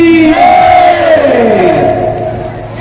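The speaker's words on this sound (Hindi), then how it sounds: "ऐसे जयकारा लगाओ" A crowd at a Dussehra guru darshan fair raises a loud devotional victory cry together, a single rising, sustained chant that swells and then slowly falls away.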